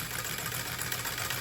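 A 1927 Singer sewing machine running under foot-pedal treadle power: a steady, fast mechanical whirring and rattling hum with continuous vibration, close and even, with no talking.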